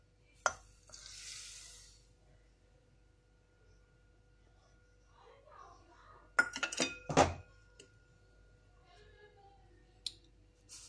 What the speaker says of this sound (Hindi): तो ये लिए हमने कलछे से थोड़ा बहुत चला देते हैं हम।